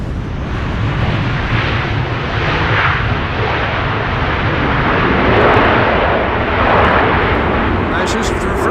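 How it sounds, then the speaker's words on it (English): An Aer Lingus Airbus A321neo lands at a windy Schiphol, its engines and thrust reversers producing a loud, continuous broadband roar that swells and eases in waves, with no pause throughout. "Shamrock is coming in with an A321neo."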